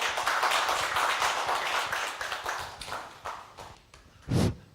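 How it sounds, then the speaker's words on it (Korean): Large audience applause welcomes a guest at a lifelong-learning lecture event in Gwangju: dense, rapid clapping that gradually thins and fades, with a brief thump just before the end. "여러분 큰 박수로 환영해 주시기 바랍니다."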